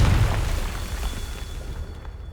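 The Confringo spell goes off in a video game, a loud booming explosion at the start that rumbles low and fades out over about two seconds.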